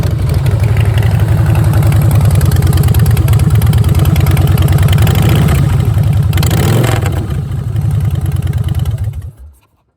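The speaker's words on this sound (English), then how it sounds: "it sounds awesome with this Vance & Hines exhaust on it" A 2014 Harley-Davidson FLS Softail Slim V-twin fitted with a Vance & Hines exhaust rumbles loudly and steadily up close, a deep loping idle with a slight rev near the middle before the sound cuts off at the end.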